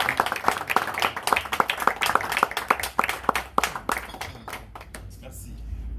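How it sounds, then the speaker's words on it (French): A church congregation applauding in thanks to the Lord, rhythmic rapid clapping from many hands that gradually thins out and fades toward the end, with a low background hum. "Nous allons acclamer pour dire merci au Seigneur."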